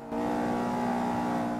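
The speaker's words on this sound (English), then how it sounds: "Listen to that engine." A racing car engine in Forza 5 whines at a steady high rev, loud and continuous, with a synthetic, game-like tone and no talking.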